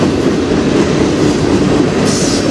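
A CN freight train led by four locomotives rolls past close by, a loud steady rumble with clickety-clack of wheels over rail joints throughout and a brief hiss rising near the end, no voices.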